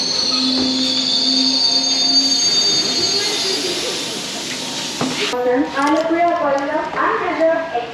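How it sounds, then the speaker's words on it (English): An unreserved local express train from Alleppey to Kollam rolls along with wheels squealing in a long high tone, then clattering rail noise takes over while people talk nearby. "Unreserved express. Train going from Alleppey to Kollam."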